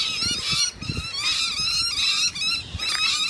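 Geese honk repeatedly in a lively, overlapping chorus close by, the calls coming in quick bursts with only brief pauses, with no talking over them.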